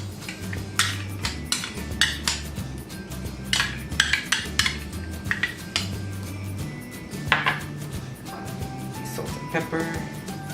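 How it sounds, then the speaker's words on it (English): Spinach artichoke dip ingredients such as sour cream and mayonnaise are dumped into a mixing bowl in a small kitchen, with repeated clinks and scrapes of utensils against the bowl in an irregular rhythm. "you're basically just dumping everything in the bowl right now"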